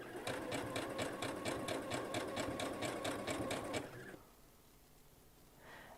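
Sewing machine stitching fabric in a fast, even run of needle strokes for about four seconds before stopping abruptly, leaving quiet room tone with a faint click near the end.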